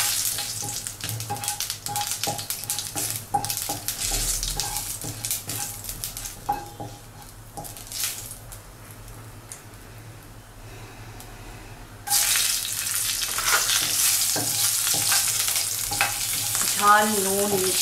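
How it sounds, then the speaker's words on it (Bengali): Whole mustard seeds tempering in hot oil in a pan after tilapia has been fried, for a Bengali fish curry: a steady close sizzle with scattered pops and utensil clinks, briefly quieter midway before the frying grows loud again. "এবার একটু সর্ষে ব্যবহার করব ফোড়নের জন্য।"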